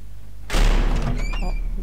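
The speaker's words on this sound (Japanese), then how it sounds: "ドアが勝手に開いてしまう音がした" A door in the horror game Eyes opens by itself, starting abruptly with a loud thump and then creaking as it swings, with no talk.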